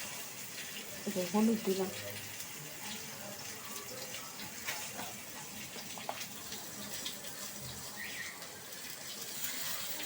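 Water running from a tap while a Bengali thin fish curry with cumin and chilli is being cooked, a soft continuous trickle and splash heard faintly beneath a woman's speech.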